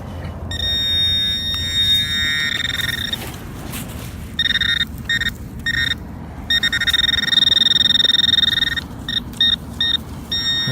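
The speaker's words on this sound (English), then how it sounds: "let's see if we can find it with the pro pointer" A pro pointer pinpointer emits steady high electronic beeps in several bursts and pauses while it probes a shallow dig hole, over rustling soil and handling noise outdoors.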